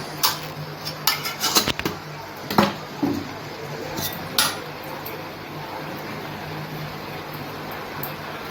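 A spoon clinks repeatedly against a metal pot while chili powder goes into simmering sambar with drumstick and okra pieces, several sharp taps early on, then a soft bubbling background.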